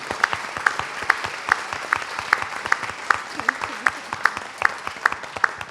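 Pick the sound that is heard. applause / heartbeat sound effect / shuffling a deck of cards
applause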